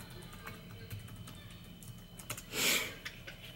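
Light key clicks from a new white light-up computer keyboard tick quietly and irregularly in a calm room, followed by a brief louder rustle near the end.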